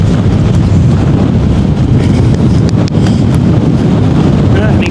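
Strong, constant wind of around 30 to 35 mph blasts the microphone on a hillside hike, producing loud, continuous roaring buffeting with no breaks.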